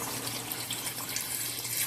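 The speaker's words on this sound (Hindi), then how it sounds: "अब इसमें हम पानी डालेंगे" Water poured into a pot of desi chicken curry, a steady broadband rushing splash running continuously and fairly close with no pauses, no voices over it.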